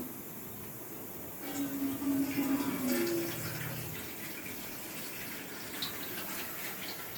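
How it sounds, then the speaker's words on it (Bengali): Water is poured into a cooking pot holding salt-and-turmeric-marinated chicken for boiling, a soft steady splashing that swells for a few seconds in the middle, then settles into a quieter trickle. "এই চিকেনটা দিলাম, পরিমাণ মতন জল দেবো।"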